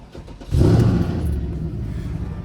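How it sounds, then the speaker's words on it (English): A Mercedes-AMG engine with a misfire starts inside the cabin, a loud low rumble surging up after half a second and then settling into a steady, slightly uneven idle. "I'll go ahead and start it up for you guys and show you what it sounds like inside the cabin"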